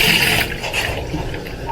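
Water pours steadily from a hose or container onto dried-out potted plants, a continuous splashing rush that is loudest at the start and then eases slightly, with no talking.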